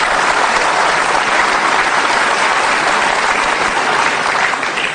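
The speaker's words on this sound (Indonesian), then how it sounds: "Kita kasih tepuk tangan." Studio audience applauding on a talk show, a dense, steady wash of many hands clapping at full volume for the whole stretch without letting up.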